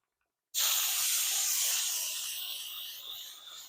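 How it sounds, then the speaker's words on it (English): Contact adhesive spraying from an aerosol can onto a plastic cap during a bedroom furniture refinish, a sudden loud close hiss that starts abruptly and holds steady, easing slightly over about three seconds. "Now you spray that. It's called a contact adhesive."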